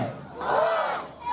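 Spectators at a chilli eating contest at an outdoor chilli festival let out a brief, loud collective cheer and shout that swells and then holds for just over a second.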